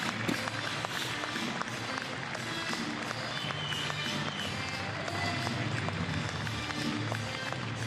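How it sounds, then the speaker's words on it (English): A large crowd applauds and cheers steadily for the second-place finisher at a strongman competition, the 2025 Rogue Invitational, a dense continuous roar of clapping with an announcer's voice over it. "Give a big round of applause to Trey"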